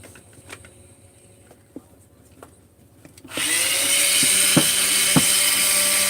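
An angle grinder starts up partway through, its loud, steady high whine replacing a quieter stretch of faint clicks and knocks, and the motor keeps running while it works on the lower parts.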